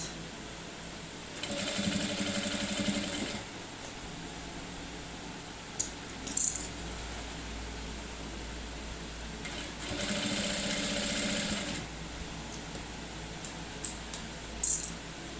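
A sewing machine stitches a wolf-mouth zipper bag in two bursts of steady whirring, separated by quiet pauses with a few small clicks and handling sounds.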